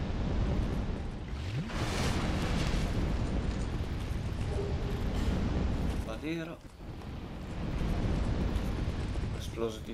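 Explosion in the video game Dark Souls 2, a loud rumbling blast that fills most of the clip, briefly dipping before resuming, with a voice talking over it.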